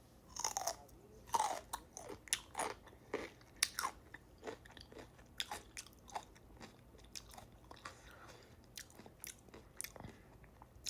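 Someone chewing and crunching dill pickles, with repeated wet, crisp bites and munching in an uneven rhythm, close and fairly quiet, with no talking.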